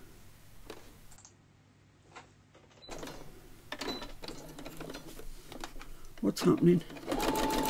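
A sewing machine stitches through paper ephemera cut from an Edith Holden book for junk journaling, its rapid mechanical clatter building in the final seconds after quieter stretches, with a person talking over it.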